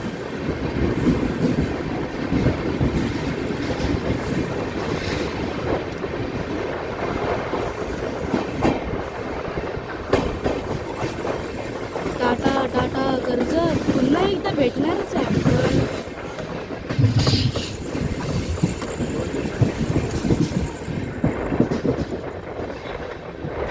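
The Siddheshwar Express rumbles along near Karjat with a steady rhythmic clickety-clack of wheels on rails and carriage rattle throughout, while someone talks over the running train.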